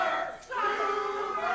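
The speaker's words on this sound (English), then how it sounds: "Listen to this crowd." A wrestling arena crowd roars and shouts continuously, dipping briefly before swelling again into a loud, sustained cheer.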